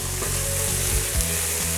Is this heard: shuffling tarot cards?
no